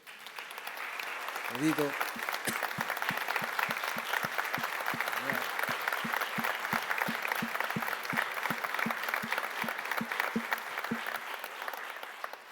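Sustained applause from a church congregation honoring the music leader fills the hall, steady and dense throughout, with a few spoken words and low rhythmic thumps beneath the clapping.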